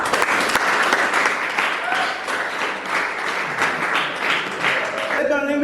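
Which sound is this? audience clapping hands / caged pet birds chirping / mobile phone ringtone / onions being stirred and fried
audience clapping hands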